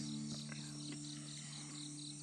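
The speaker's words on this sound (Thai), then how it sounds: "ได้ยินเสียง สัตว์ร้อง จิ้งหรีด เบาๆ" Crickets chirping softly at a campsite in the evening, a steady high trill over a constant background hum, faint and continuous with no talk.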